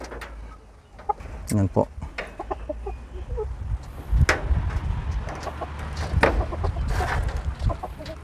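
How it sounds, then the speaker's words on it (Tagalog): Two captive red junglefowl clucking in a backyard coop, repeated short clucks and a louder cackle burst close by, with someone talking over and between the calls. "Ito po yung dalawang labuyo."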